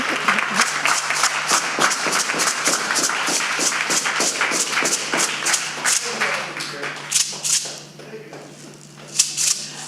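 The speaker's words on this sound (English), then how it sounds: "A round of applause to all the contestants." A crowd at a live community event applauds the contestants with quick, dense clapping that holds steady, then thins out and fades, leaving a few scattered claps near the end.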